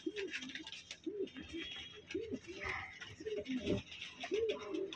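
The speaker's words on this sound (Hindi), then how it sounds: "भाई एक कबूतर ये दिया" Punjabi Malwai racing pigeons cooing close by in a repeated rhythmic series of soft throaty coos, with faint background chatter and rustling.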